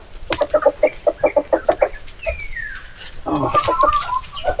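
Farm chickens, including hens, cluck in a quick rhythmic series up close, followed by a rising squawk and a burst of overlapping clucking and chatter from the flock.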